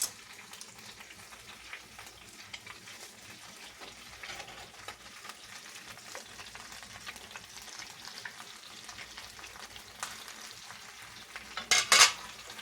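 Chopped garden vegetables fry in a skillet with a soft, steady sizzle, fairly quiet and close, ending in a few sharper clinks of utensil against the pan.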